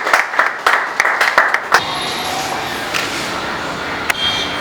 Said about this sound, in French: Au moment où la CGA Sylvie avance, on applaudit pour l'encourager